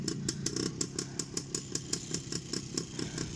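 Orion quad bike engine running in a forest, a steady close putter with a fast, regular pulsing beat throughout and no talking.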